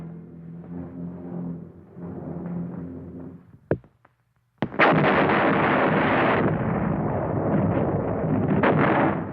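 Artillery fire during the Battle of San Pietro: a low rumbling barrage, then sharp cracks and a short lull before a loud, sustained roar of heavy gunfire and blasts that continues to the end.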